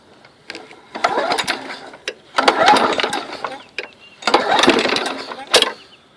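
A lawn mower engine sputters as someone tries to start it after it has sat unused, three rough bursts of rattling, chugging noise, each dying away between attempts, loud and close with no talk over it.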